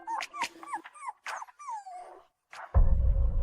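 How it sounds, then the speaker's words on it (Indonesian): A dog whimpers and growls in a series of close, whining yelps and rising-falling whines, then a sudden loud rumbling noise takes over at the end. "Jangan mendekat, anjing ini galak."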